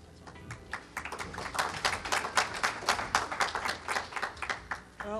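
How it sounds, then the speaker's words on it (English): Applause from a conference audience at the HOPE hacker event builds to steady, dense clapping and then thins out, with a voice briefly audible at the end. "Well, thanks for the applause."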